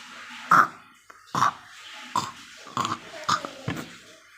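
A person's voice imitates a pig with a series of short, throaty grunting snorts, about six separate bursts spaced roughly evenly, close and fairly loud against a quiet background.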